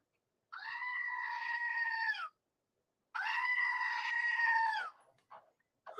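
Two long, loud goat screams played as a sound effect, each a sustained bleating wail lasting about two seconds, separated by a short silence and followed by faint trailing sounds.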